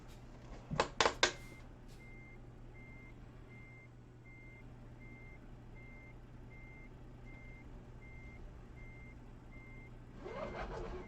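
Reversing alarm on a truck backing up in Euro Truck Simulator 2, a steady evenly spaced series of beeps that runs for most of the stretch over a low engine hum, after a few loud clunks at the start.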